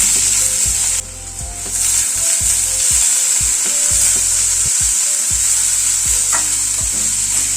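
Chopped onions hitting hot oil tempered with black cumin and a dried red chilli, a loud steady sizzle with repeated scraping stirs of a spatula against the pan, close up.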